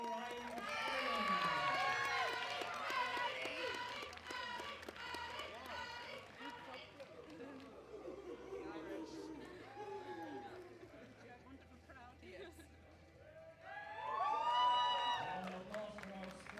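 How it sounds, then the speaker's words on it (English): Crowd at a European Open Classic Powerlifting Championship for women's 84 kg applauds and cheers the squat podium finishers, sustained clapping under an announcer's voice, fading mid-way then swelling with whoops toward the end. "Round of applause for our squat podiums"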